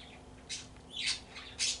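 Birds squawk outdoors in three short, harsh calls spaced about half a second apart, moderately distant over a low steady background hum.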